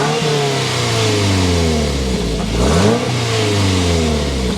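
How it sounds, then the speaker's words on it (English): Exhaust note of a 2024 Toyota GR86 Trueno sports car, loud and close, with engine revs rising and falling through a continuous, steady drone. "start it up, so you can hear that exhaust note."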